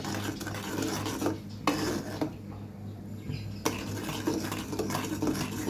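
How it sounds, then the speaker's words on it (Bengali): A spoon scrapes and stirs mustard seeds frying in oil in a pan for a chilli-and-garlic pickle. The steady rasping stir comes with a faint sizzle and no talk. "অনবরত নাড়তে থাকছি।"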